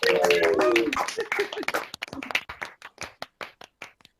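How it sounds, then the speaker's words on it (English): Graduates of a 2021 engineering school class clap for each other over an online call. A voice cheers at the start, then the claps thin out into scattered, separate hand claps. "Now warmly welcome you to unmute yourself and cheer clap for each other."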